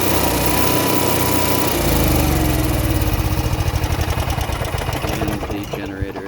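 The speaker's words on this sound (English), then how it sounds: "the generator itself fires right up" A 2006 Four Winds Chateau RV generator cranks and fires up, settling into a loud, steady, buzzing engine drone with a fast pulsing rhythm, heard close and alone.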